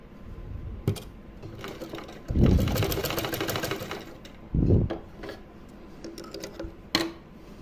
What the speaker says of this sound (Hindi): इस तरह से करते हुए यहाँ पर हमें सिलाई लगा लेनी है।